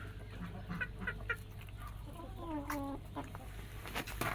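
Black chickens and crested, bearded roosters in a backyard flock cluck and squawk in scattered bursts, with a steady low hum underneath and fowl calls rising toward the end.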